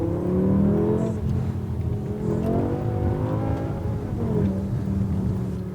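A BMW M5 E60 with its V10 engine revving, a throaty, rising and falling roar heard close and loud in several surges, with no talking over it.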